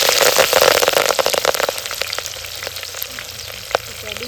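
Mustard seeds, cumin and green chillies hitting hot oil for a gunda bhaji, a loud dense crackling fry that settles into a steadier sizzle with scattered pops and the odd stir, no talk.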